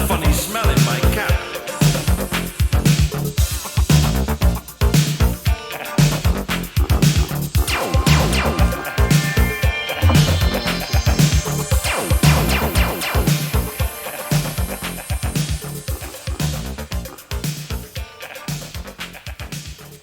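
A comic 1980s song in its album version, a dense, full band mix playing continuously at steady volume throughout.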